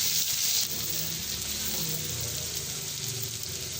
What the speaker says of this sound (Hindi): घी जो है गर्म हो चुका है, इसमें हम जो है ना लहसुन और अदरक का पेस्ट डालते हैं